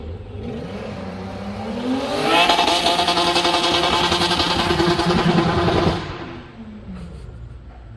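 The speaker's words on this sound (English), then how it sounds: "m50b25 turbo running 400 brake horsepower at the wheels" Turbocharged BMW E36 with an M50B25 engine making 400 brake horsepower accelerates hard, the engine note climbing steadily and loudly for several seconds before easing off, with no voices over it.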